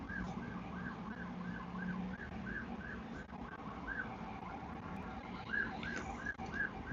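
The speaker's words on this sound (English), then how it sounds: "There's sirens all day here." Emergency vehicle sirens in a city, a wailing rising-and-falling tone repeating over a constant low traffic hum, fairly faint and distant, with a second siren joining near the end.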